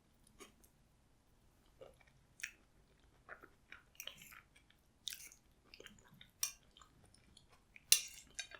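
Quiet, close chewing of a home-cooked fresh green bean dish, soft irregular bites and crunches with small mouth clicks and no talking.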